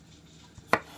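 A knife chops red-cap boletus mushroom on a board: one crisp, close chop after a faint lighter tap, in a quiet kitchen.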